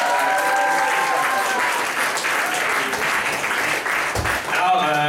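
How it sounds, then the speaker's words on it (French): An audience at a local CEGEP student talent show finale claps steadily in a dense, sustained wave of applause that stays loud through the whole stretch, with a voice briefly rising above it near the end. "j'aimerais qu'on donne une bonne main d'applaudissements pour tous les autres numéros"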